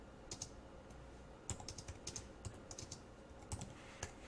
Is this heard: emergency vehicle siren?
no